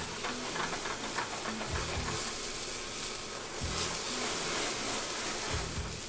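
Clams and garlic sizzle in hot olive oil with white wine added, a close, steady hiss and crackle with soft stirring scrapes throughout.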